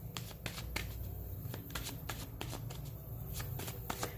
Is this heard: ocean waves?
no